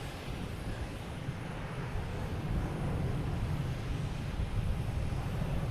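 A JetBlue jet at Boston Logan Airport bound for San Diego makes a low, steady engine rumble that builds slightly, heard with wind across the microphone and no talk.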